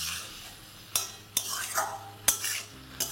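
Spices for an egg and potato curry are stirred in a pan over a low flame, with a quiet background sizzle and four distinct scraping, clinking strokes of a spoon against the pan, close and soft, with no talking.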